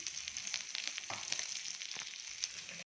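Green chili paste hitting hot oil in a pan, giving a continuous bright sizzle with small crackles for about three seconds before it cuts off.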